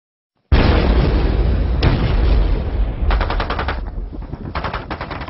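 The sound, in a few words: cannon fire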